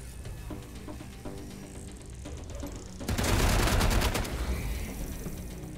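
Quiet game-like background hum, then a sudden loud burst of rapid gunfire from a pistol in Wasteland 3 lasting about a second before fading into a lingering echo.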